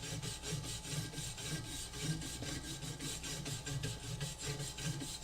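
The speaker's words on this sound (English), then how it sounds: "we'll just brush off a portion of this leaf spring to make sure that we don't have any loose particles on there" A wire brush scrubs rust off a steel leaf spring, giving close, steady rasping strokes in a quick repeated rhythm, loud and continuous with no talking.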